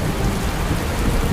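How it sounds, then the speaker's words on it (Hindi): Steady heavy rain pours over the Thar desert with a dense, continuous hiss and low rumbles like distant thunder, loud and unbroken, with no voices. "बारिश जो कुछ ही दिन होती है, लेकिन इतनी काफी है।"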